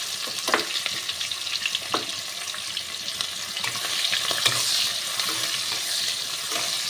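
Chopped onions fry in oil in a kadai, giving a dense, steady sizzle with scattered crackles and occasional stirring knocks, close up and without any voices.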